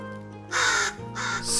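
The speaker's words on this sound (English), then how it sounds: "Also, you can see the new crow with the sound they have." A crow in the survival video game The Forest caws twice in quick succession, loud and close, over a faint ambient game background.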